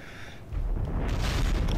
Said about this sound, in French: Waouh, ça c'est l'explosion.